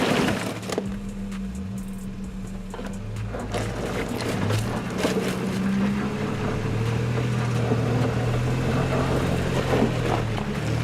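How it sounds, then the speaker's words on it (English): A Nissan Pathfinder SUV crawls over a stubborn rocky turn, engine droning low as the body knocks into rocks, with sharp cracks and scraping from the rear bumper and mudguard. "The Nissan moved the big rock with its front wheel, hit another rock with the rear bumper, and ripped off the back left mudguard"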